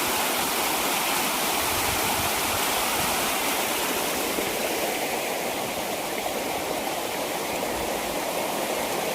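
Steady rushing of flowing water from a small river, loud and continuous, with no voices.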